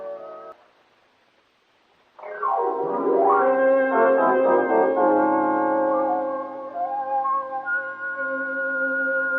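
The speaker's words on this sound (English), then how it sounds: "Let that whistle be your signal for The Whistler" The Whistler radio show's whistled theme signal: after a brief tone and a pause, a loud, clear melodic whistle enters alone, gliding between notes over sustained orchestral accompaniment.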